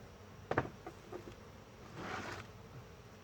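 Honeybees in a backyard hive with three deep boxes and new comb on the frames buzz faintly and steadily, with a few closer bursts of buzzing rising over the drone.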